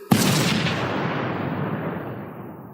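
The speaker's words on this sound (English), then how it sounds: "The explosion rattled the whole crowd" A single sharp explosion bursts in near the start as a loud, deep boom, then rolls off into a long rumbling decay that fades over the next couple of seconds.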